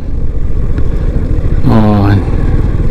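Motorcycles ride along the roadside through busy traffic around Sipitang, making a steady close engine and road rumble. A brief rising tonal whine cuts through near the middle.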